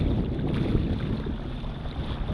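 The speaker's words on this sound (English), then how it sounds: "not too bad of a day, a little bit windy" Steady wind gusting across a beach during a kayak fishing outing at Holly Beach, Texas, a continuous broadband rush with low rumble, close to the microphone and heard alone without talk.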